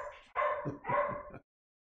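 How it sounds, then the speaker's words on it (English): An excited dog barks twice in quick succession on the way out for a walk, close and fairly loud, with brief quiet before and after the barks. "he's barking because he's excited"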